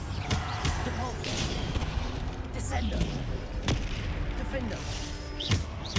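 Bombarda and Depulso spell effects in the Hogwarts Legacy video game, a dense run of repeated blasts and impacts crashing over a loud steady battle din, with a voice calling out in between.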